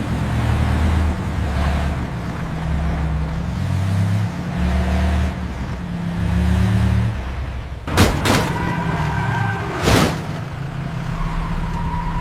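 A car engine rumbles steadily as the vehicle pulls away on a road, with traffic noise around it and two sharp knocking bursts near the end.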